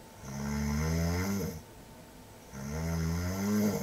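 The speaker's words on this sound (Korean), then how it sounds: "기차와 통을 삼킨 마냥 코골이를 해대는 남편" A man asleep at home snores loudly in two long, rasping breaths separated by a quiet pause, close and prominent with no talking.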